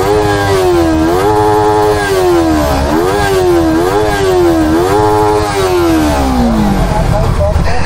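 Motorcycle with stock exhaust revving loudly and close, the engine pitch rising and falling in repeated throttle blips over a steady rumbling idle, then settling lower at the end.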